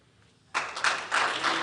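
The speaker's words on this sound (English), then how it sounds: "Clap the hand again for you go." An audience at a national reading competition breaks into applause after a short quiet lead-in, a dense, steady clapping that carries on to the end with no talking.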